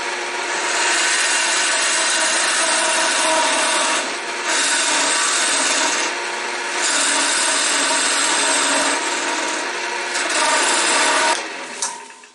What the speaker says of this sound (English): we're going to get out our parting tool, and we're going to trim these down